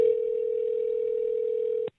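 A telephone dial tone hums as one steady, loud pitch for nearly two seconds at the start of a prank call, then cuts off with a brief click.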